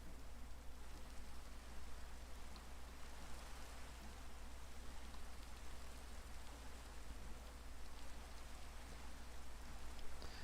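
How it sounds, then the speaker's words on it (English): Rain falling in a video game, a quiet, steady patter and hiss that holds even throughout, with no talking. "And it's raining."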